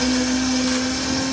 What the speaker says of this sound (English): With some saline homogenised in a blender, filtered through a simple kitchen-type filter